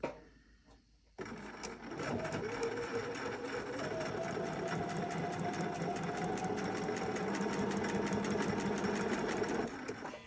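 A sewing machine stitches a quilted candy cane stocking with a fast, even, continuous needle chatter that starts after a second of quiet and runs close up and steady to the end.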